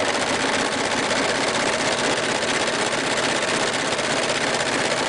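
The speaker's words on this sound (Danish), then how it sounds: "nu tager vi lige den nemme løsning med den 4-trådet overlock" A 4-thread overlock sewing machine stitches steadily along a fabric edge while a tunic shirt is sewn, giving a loud, close, continuous whirring hum with no pauses.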